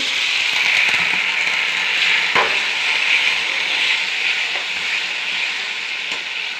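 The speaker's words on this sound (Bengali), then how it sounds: "মশলাটা দিয়ে ভালো করে কষিয়ে নিচ্ছি" Cumin, ginger and whole black peppercorns fry in a pan while being stirred, a loud continuous sizzle up close with occasional faint spatula scrapes and no voices.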